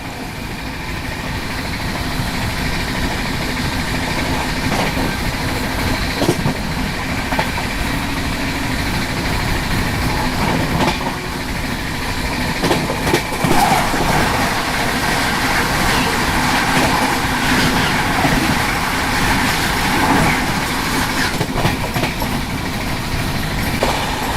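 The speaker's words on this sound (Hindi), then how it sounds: "अभी सामने से ये आ रही है रांची नई दिल्ली राजधानी एक्सप्रेस।" The Ranchi–New Delhi Rajdhani Express approaching on the track, a steady loud rumble of engine and rolling wagons with rattling clatter that persists throughout.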